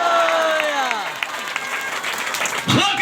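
A church congregation at a sermon bursts into loud, sustained clapping and cheering, the applause filling the room while a preacher's voice carries over it.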